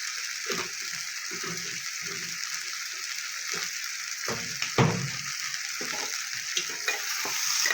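A spoon scrapes and stirs carrot and potato curry in a pan, with scattered scraping strokes and knocks over a continuous frying sizzle, close and moderately loud.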